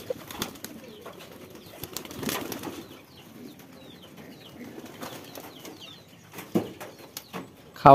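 Domestic pigeons on a rooftop coo softly and flap their wings while waiting for food, with scattered rustling and nearby wingbeats, closing with a louder flutter.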